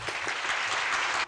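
Short burst of applause from a small group, a quick patter of clapping lasting about a second before stopping abruptly.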